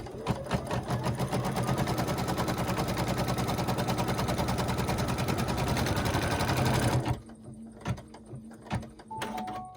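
A sewing machine stitches down folded fabric for a sweet pea table runner, its loud, fast, steady needle rhythm running for about seven seconds before stopping abruptly, followed by a few faint handling clicks.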